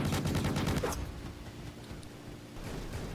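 Four Malot weapons fire together on a medium robot in the War Robots video game, a dense rapid burst of gunfire that cuts off after about a second, leaving quieter mechanical rumble and clatter.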